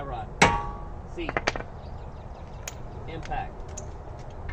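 A hammer strikes the tie rod of a 2007–2008 Acura TL Type-S during front brake and wheel bearing work: one loud, sharp metallic hit followed by a quick cluster of lighter taps, set against a faint garage background.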